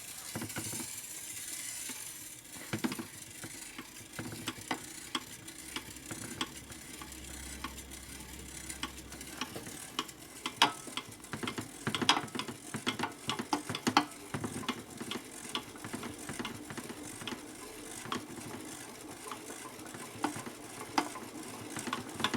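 A power tool turns the engine gears of a 1961 Harley-Davidson FL 74ci panhead during a rebuild: a continuous rattling, clicking mechanical grind with an uneven ratchet-like texture throughout.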